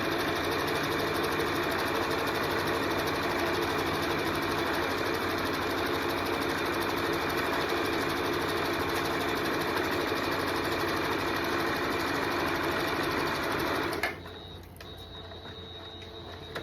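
A sewing machine stitches the last side of a reversible tote bag, its rapid steady mechanical whir running loud and close for about fourteen seconds before stopping abruptly.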